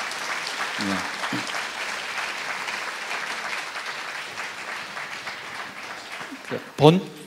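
Audience applause welcomes a performer to the stage at a conference talk concert, a sustained, moderate wash of clapping from a seated crowd, with a brief louder burst and some stray sounds near the end.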